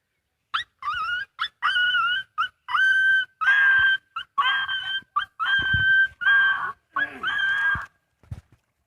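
A young boy imitates a dog with his voice, producing a series of short yelping barks and whimpering whines in irregular bursts, close and clear against a quiet background.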